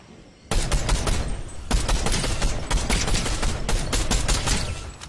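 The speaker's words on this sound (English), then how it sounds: "everyone's shooting everywhere" Many Fortnite players fire at once in a steady, loud rattle of overlapping gunshots and bursts that starts abruptly and keeps going without a break.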